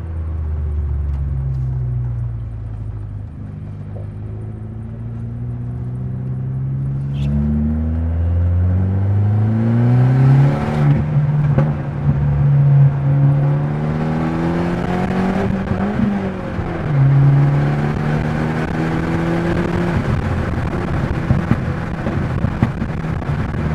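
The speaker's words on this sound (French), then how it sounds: "on entend l'hélice du turbo" Abarth Punto Evo turbo engine revving through repeated gear pulls, harmonic engine tones rising and falling with a faint turbo whir riding over the loud, close cabin rumble; no talk.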